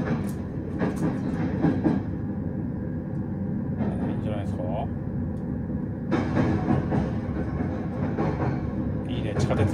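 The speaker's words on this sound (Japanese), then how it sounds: "さあちょっと VVVF の音がどんな感じですかね。" Electric train motor with VVVF inverter drive in a JR East train simulator game, Sobu Rapid Line toward Narita Airport; a steady rumbling run with swelling tonal whine, under nearly continuous talk.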